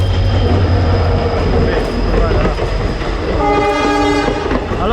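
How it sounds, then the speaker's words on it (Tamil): A train roars past up close on a trek route near Dudhsagar waterfalls, with heavy rumbling and clattering wheels, and its horn sounds loudly near the end, while a person speaks briefly over the noise. "ஆத்தாடி ட்ரெயின் வருது"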